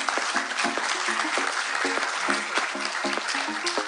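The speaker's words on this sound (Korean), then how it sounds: "힘찬 박수로 맞아주십시오." An audience at a film event applauds as the director and an actor come onstage, a steady, dense clapping from a sizeable indoor crowd with a faint tonal music bed underneath.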